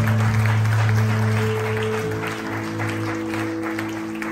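Church congregation applauding in a dense wash of clapping that fades slightly toward the end, with a sustained tone and light voices underneath.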